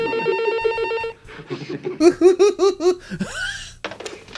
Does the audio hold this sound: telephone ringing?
yes